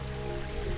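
A small cascade in a creek at Tonys Creek Falls, Numinbah Valley, rushes in a steady, close, even wash of flowing water.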